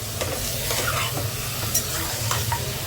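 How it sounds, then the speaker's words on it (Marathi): Mutton is stirred in a hot pan for a village-style curry, giving continuous sizzling with repeated scraping and clattering of the spoon against the pan, close up. "आता ह्याला आपल्याला मस्तपैकी एकदम हलवायचं"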